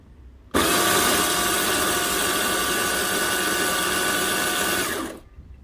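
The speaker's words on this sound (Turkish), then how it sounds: "Üç paket urçak bisküvileri güzelce rondodan geçirelim." Food processor grinding three packs of biscuits into crumbs, a loud continuous motor whir that starts abruptly, holds steady for about four and a half seconds and winds down.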